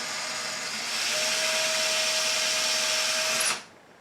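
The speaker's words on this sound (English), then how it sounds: "Put your drill on that mark that you have and drill very little," A power drill bores slowly into a wall while attaching a coat rack, giving a steady whirring drone that rises slightly and then cuts off abruptly near the end.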